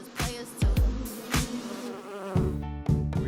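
Bees buzz around a beehive built from Lego bricks, with several close insects droning past in loud, wavering passes that rise and fall over a few seconds.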